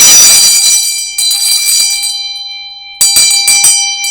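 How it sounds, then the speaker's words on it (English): A bell rung twice in a quiet room, with long ringing tones that fade between strikes, the second strike following a short pause. "ring the bell."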